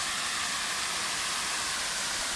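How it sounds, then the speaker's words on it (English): A garden waterfall tumbles over rocks into a pool, a steady, close, full rushing wash of water with no voices over it. "Falls down these rocks into that pool, and down again into these lower pools."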